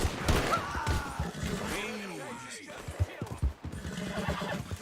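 A horse whinnies in Red Dead Redemption 2 gameplay, with thuds and clattering hits around it and voices talking over the action.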